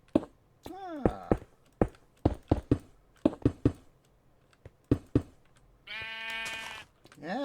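Blocky sheep in the video game Minecraft let out a couple of buzzy bleats, the last one loud and drawn out, amid a string of sharp, close mouse and keyboard clicks.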